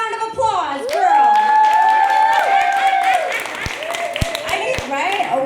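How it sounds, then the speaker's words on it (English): Audience applause at a sold-out red carpet celebrity event. A few scattered, sharp claps ring out beneath a prominent voice, with a crowd murmur behind them. "Big round of applause, girl"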